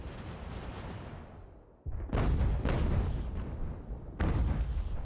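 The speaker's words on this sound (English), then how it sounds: "be careful, cannons." Cannon fire from ships in a naval battle in Ultimate General: American Revolution, heard as a loud rumbling barrage with heavy booms landing at about two and four seconds, and no talk over it.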